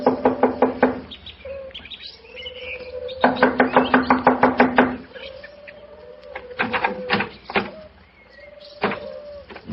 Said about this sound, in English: I'll knock on the door.